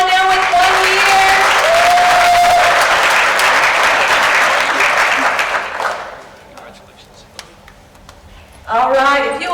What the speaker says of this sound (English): if you will hold your applause